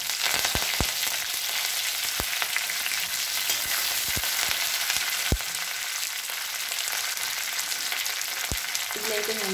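Dried red chillies and curry leaves frying in hot oil, a steady loud sizzle with occasional sharp pops and crackles throughout, close up and with no talk.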